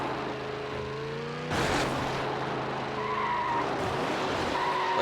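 A race car in the video game Need for Speed Hot Pursuit 2 revs with a tonal engine whine, then tires screech loudly as it brakes into a corner before the engine pitch climbs again while accelerating.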